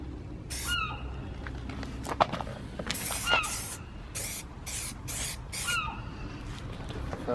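Aerosol spray paint laid on as the first coat on a Nissan Silvia S15 car part, heard as several short hissing bursts in an irregular rhythm, close and moderately loud.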